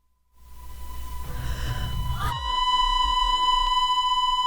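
A singer's voice sung through a ring modulator becomes a drone on the last notes of a song: a breath swells into a hazy tone that settles into a steady, metallic hum with bright overtones.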